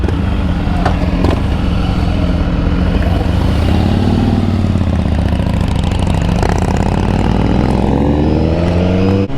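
A BMW S1000RR motorcycle engine drones loud and steady under the rider throughout, a continuous low rumble with shifting pitch while riding, no talk.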